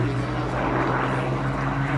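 A Hawker Hurricane Mk.I's propeller engine drones with a steady low throb at an air and car show, loud and sustained with a rough edge.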